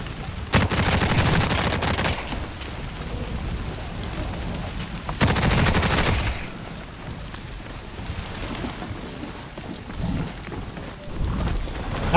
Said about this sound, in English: That's a lightning strike